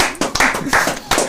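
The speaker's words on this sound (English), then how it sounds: "What are we clapping for?" A few people clap hands in a radio studio during a talk show, in short uneven bursts across about a second, fairly close and loud.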